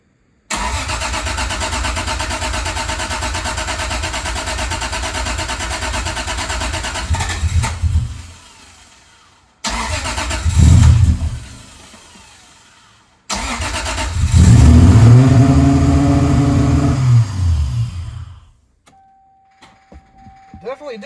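A turbocharged Lexus SC300 engine, with a newly working idle motor, cranks and runs, cuts out, then starts again and revs up loudly before dying away, with brief voices near the end.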